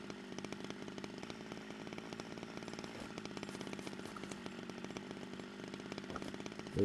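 A chainsaw in the game SCUM cuts through base material with a steady, buzzing engine drone that carries on evenly for several seconds at moderate loudness, with no voice over it.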